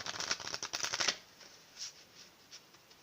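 A deck of angel therapy oracle cards is riffled quickly for about a second, a close, crisp flutter, followed by a few soft taps and handling sounds in a quiet room.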